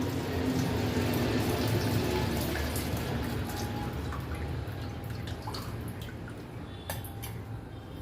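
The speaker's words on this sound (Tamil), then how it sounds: "இப்போ வந்து இந்த புளி தண்ணி இதில் விட்டுடலாம்" Tamarind water is poured into a simmering elephant foot yam vatha kuzhambu, giving a steady trickle with soft splashes and drips into the pot, close and gentle, with no voices.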